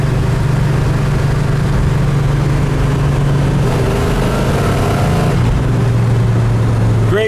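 A 1970 Ford 429 Cobra Jet engine drones steadily while the car cruises at about 70 mph and 2,800 RPM, a loud, continuous in-cabin rumble with a slight shift in pitch partway through.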